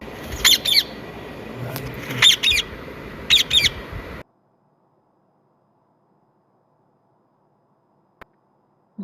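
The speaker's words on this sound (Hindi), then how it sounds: "तोए से तोता।" A parrot gives several loud, harsh squawks in bursts over a noisy background during the first four seconds, then goes quiet apart from a couple of brief clicks near the end.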